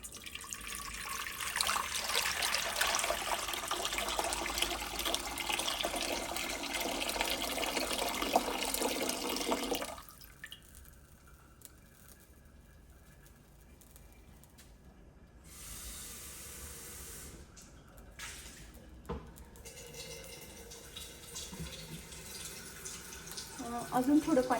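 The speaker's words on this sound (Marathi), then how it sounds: "यात आपण आता पाणी घालूया." Water poured into a large two-handled cooking pot on a gas stove, heard as a steady rushing splash for about ten seconds before dropping to a quieter room with a few faint knocks.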